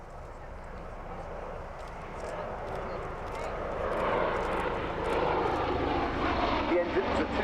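A Bell Boeing MV-22B Osprey tiltrotor, with two Rolls-Royce Allison turboshafts, makes a high-speed pass at 260 knots and 500 feet at the Royal International Air Tattoo 2012. A steady, broad engine roar builds gradually and stays loud throughout.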